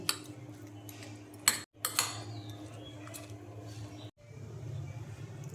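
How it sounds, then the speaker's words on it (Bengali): Egg being whisked in a bowl with salt, black pepper and chili flakes for a quick egg sandwich, giving a run of soft metallic clinks and scraping under a low steady kitchen hum, with a couple of sharper knocks midway. "সব একসাথে দেখো মিক্সড করে নিচ্ছি"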